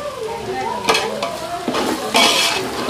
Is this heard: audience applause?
no